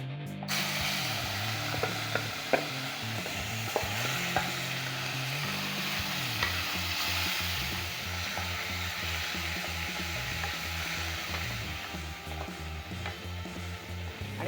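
Prawns dropped into hot oil seasoned with a quarter spoon of asafoetida, frying for a prawn khichdi: a steady broadband sizzle with rhythmic mechanical clicking underneath, continuous and fairly close, with no talking.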